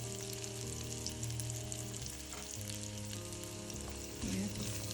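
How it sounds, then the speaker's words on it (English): Scallion and thyme saute in a generous amount of hot oil for a salt mackerel rundown, giving a steady, dense sizzle and crackle that runs unbroken and close, with a faint low hum beneath. "So I'm going to put the scallion and thyme"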